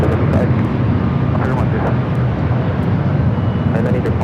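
An ATR turboprop airliner passing at LAX, a loud steady roar of engine and airflow filling the whole clip with no break.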